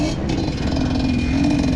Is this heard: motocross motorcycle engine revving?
yes